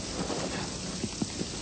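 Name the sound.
heavy rain downpour on a house in a film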